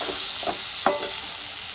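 Spices being stirred and sautéed in a pan for a fish head curry made with elephant foot yam, giving a steady close sizzle broken by a few sharp spatula scrapes, with no talk.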